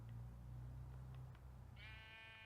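A sheep in the video game Minecraft gives a single, clear bleat near the end, which follows a low background hum.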